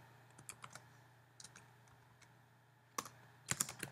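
Quiet computer keyboard typing while writing code in Xcode, scattered bursts of light key clicks with pauses between them, a steady low hum beneath, and a quicker flurry of keystrokes at the end.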